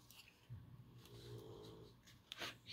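A small pet snores softly and close by, with a steady low rumbling breath rising and falling over a few seconds amid quiet room sounds.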